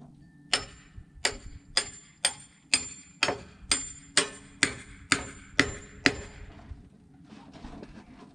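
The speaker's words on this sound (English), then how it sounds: "just pound in the carriage bolt as much as you can so it sucks into the wood" A carriage bolt is hammered into wet wooden framing while setting trusses and purlins, about eleven loud, evenly spaced metallic strikes ringing close by, then fading to quiet outdoor ambience.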